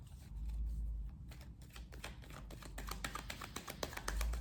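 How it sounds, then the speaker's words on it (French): A deck of tarot cards is cut and handled up close, a quick run of soft papery riffles and taps in a rapid irregular patter, fairly quiet and without speech. "On va faire une coupe propre."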